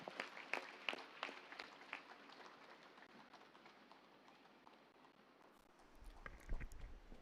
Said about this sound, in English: Let us all give a round of applause for meditation.